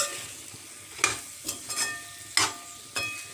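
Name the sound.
pointed gourd and potatoes frying with spices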